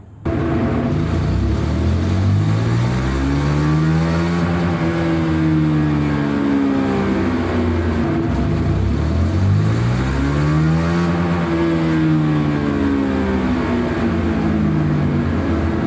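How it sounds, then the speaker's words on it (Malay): A stock Yamaha motorcycle engine (RS150R/Y15ZR class) revs up and down repeatedly on a dyno, loud and close, rising to a high-pitched wail in two long sweeps. "Kita mulakan test dengan kita run dyno dulu, motor standard ni."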